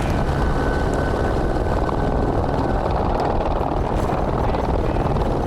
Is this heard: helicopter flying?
yes